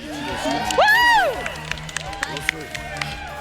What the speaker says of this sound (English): Erin has a really nice cheering section, and I love that